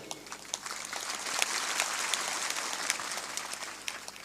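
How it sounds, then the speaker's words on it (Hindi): An audience at a spiritual discourse claps softly, a faint, sustained patter of many hands with scattered sharper claps standing out. "थोड़ा जोर से ताली बजाया करो"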